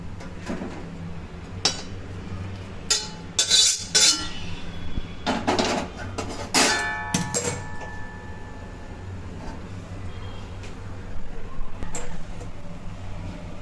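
Salt-and-turmeric-boiled cauliflower lifted out of a pot, with clinks and clatters of utensil against metal cookware in scattered bursts, then quieter handling, no talk.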